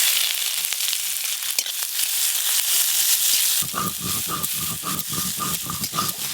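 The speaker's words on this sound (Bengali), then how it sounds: "এই যে পেঁয়াজ কুচি একটু ভাজা ভাজা হয়ে গেছে" Chopped onions frying in hot oil with a dried red chilli for a water spinach stir-fry, a crackling sizzle that turns into rhythmic scraping and stirring bursts of a spatula in the pan.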